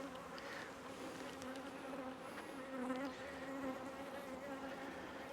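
A swarm of honeybees buzzes steadily in an open hive box during a beekeeping inspection, a dense, continuous droning hum from many insects heard close up without any talk.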